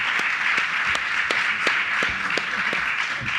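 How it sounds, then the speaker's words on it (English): Audience applause for an analyst panel at a maritime forum in a room, a moderate steady patter of clapping with a few sharper individual claps standing out, fairly even throughout. "let's give them a round of applause"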